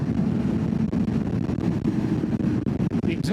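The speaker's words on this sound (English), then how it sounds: "The exhaust on this sounds great." A loud, steady low engine rumble, like a motorcycle exhaust, with wind buffeting throughout.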